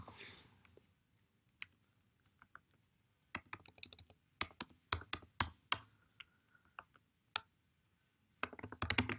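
Someone types a WhatsApp message on a computer keyboard: scattered close clicks, then bursts of quick keystrokes with short gaps, ending in a dense flurry of taps in a quiet room.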